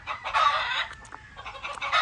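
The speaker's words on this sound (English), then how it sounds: "Some chickens." Chickens clucking and squawking loudly at close range in a tropical island setting, a busy, overlapping run of calls that swells, dips briefly and picks up again.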